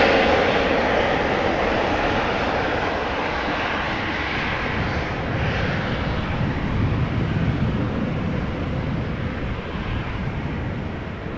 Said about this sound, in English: KLM to Geneva, Embraer 190.